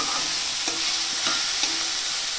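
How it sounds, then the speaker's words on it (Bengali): Chilli, salt and turmeric fry in a pan with a steady hiss and sizzle, broken by a few soft scrapes of stirring, close and continuous with no talk. "লঙ্কা দিয়ে লবণ হলুদ দিয়ে ভেজে নিয়েছি"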